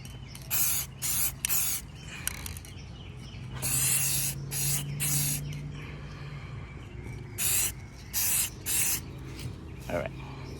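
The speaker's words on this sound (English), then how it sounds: "And I'm gonna spray from this side." A spray paint can sprays the back edges of a mirror in a series of short and longer hissing bursts with brief pauses between, close and fairly loud, with low sounds from the room in the gaps.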